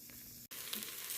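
Onions frying in a pan for an elk pot roast, a steady close sizzle running throughout with one brief dropout midway.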